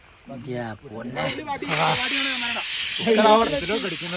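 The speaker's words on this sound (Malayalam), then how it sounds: "കുക്കർ അവിടെ അടിക്കുന്നു" A pressure cooker on a travel-day cooking stop bursts into a loud, steady hiss of escaping steam partway through and keeps going, while people talk nearby over it.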